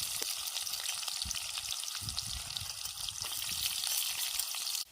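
Chili and onion frying in a pan by a dam in the jungle, a steady close sizzle with occasional stirring scrapes and no talking.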